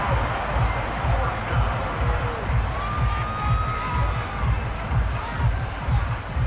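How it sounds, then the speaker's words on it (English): A video game stadium crowd in an American football game cheers and roars continuously after a defensive stop, with whoops and shouts rising over a dense wash of noise. "How about some applause for the defense there?"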